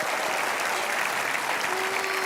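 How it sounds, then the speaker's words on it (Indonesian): Sustained applause from a television studio audience, a steady wash of clapping hands that continues without a break. "Tepuk tangan dulu dong."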